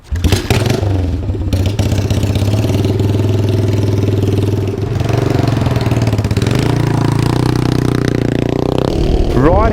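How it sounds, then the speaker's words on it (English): A custom Yamaha SR400 cafe racer motorcycle with a shaved front guard runs loudly and steadily up close, its engine note holding a continuous throbbing drone with slight rises in revs, briefly cutting off near the end. "Riding this bike"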